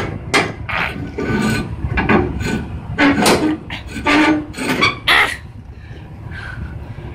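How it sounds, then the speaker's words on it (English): A trailer's sliding-tandem release lever being pulled gives a series of loud metallic clanks, scrapes and ratcheting knocks close by, several separate bursts over a steady outdoor background. "I've got to move them forward, which means I've got to pull this lever."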